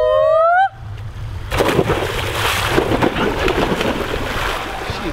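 Splashing fills a summer camp pool during a synchronized swimming demonstration, a broad rushing wash of water that follows a brief high whistle-like tone at the start and continues steadily, close and loud.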